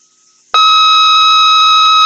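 An electronic quiz show buzzer sounds on a 1985 high school quiz program, a sudden loud steady tone that starts abruptly after near silence and holds without a break.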